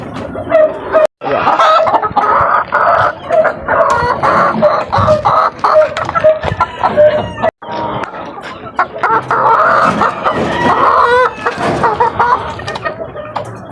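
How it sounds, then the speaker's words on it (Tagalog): Asil chicks peep and cheep continuously up close, with bright repeated chirps and some clucking layered together, loud and busy throughout with two brief gaps of silence. "Ayan yung sisiw ko guys, na bibistag, asil."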